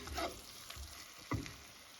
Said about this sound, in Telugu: దొండకాయ ముందు బాగా వేగిపోయింది